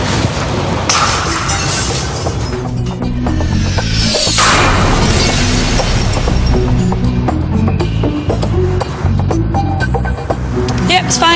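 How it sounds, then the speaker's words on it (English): A ceramic tile about the size of the Sydney Opera House roof tiles strikes a pane of glass after falling more than 10 metres, giving a loud clattering impact within dense, continuous noise. "I'm going to drop a tile about the same size as the ones on the Opera House from more than 10 metres."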